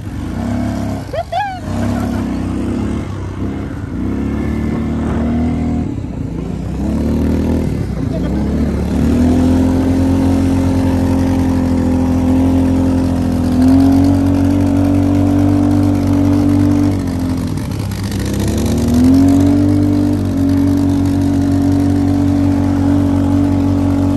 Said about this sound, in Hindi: एकदम गोल गोल ड्रिफ्ट कर रहा हूँ एकदम पास में